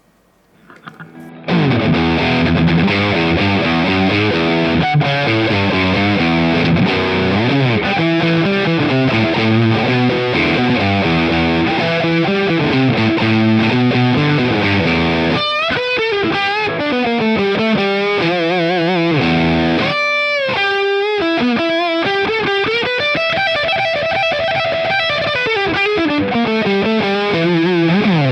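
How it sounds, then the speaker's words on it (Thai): An Umeda UST-20 electric guitar with its humbucker coil-split plays distorted sustained chords and riffs continuously, loud and close, with a bright, biting tone and a few brief pauses. "ต่อไปผมจะไปลองตัดคอยตัวฮาร์มกิ้งดูนะครับ"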